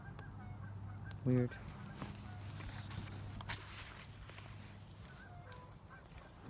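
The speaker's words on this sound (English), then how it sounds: "geese arriving moment by moment" Geese arrive with one loud, close honking burst early on, set over a steady low hum and faint outdoor rustle; a single word is spoken softly.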